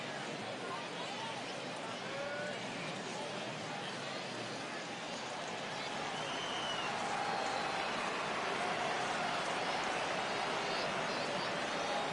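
Baseball crowd at a Blue Jays game rising for a full 3-2 count, a steady broad roar of cheering that swells louder in the second half, with faint whistles over the babble.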